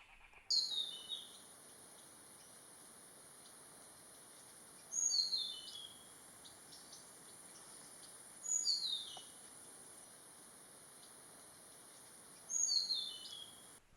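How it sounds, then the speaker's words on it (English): Four short bursts of rolling, descending calls from a red-bearded bee-eater in Thailand, spaced several seconds apart, fairly distant over a quiet hiss. "Red-bearded bee-eater. Beautiful. Can you hear it?"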